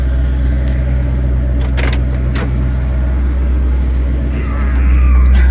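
A car engine idles at running temperature, a steady low rumble close by with a few brief rattles and a slight rise in engine noise near the end.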